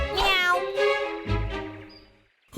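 A cartoon cat gives a pair of drawn-out, bright meows in quick succession, clear and close, with a brief thump at the end.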